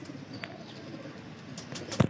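A breeder's pigeon cooing softly nearby, a low murmur ending in a louder coo, with faint chirps behind it.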